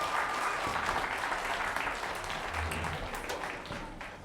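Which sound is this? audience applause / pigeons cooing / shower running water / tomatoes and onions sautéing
audience applause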